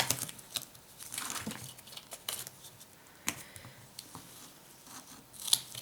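Teflon scissors snip through paper while a handmade shaker card is made, giving a run of quiet crisp cuts and rustles with a few sharper snips.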